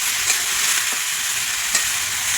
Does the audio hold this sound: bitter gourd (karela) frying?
yes